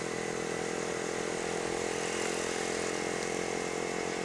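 A motorcycle with only one working brake, ridden through moderately busy traffic, gives a steady, loud engine drone that holds without a break, close up and with no talk over it.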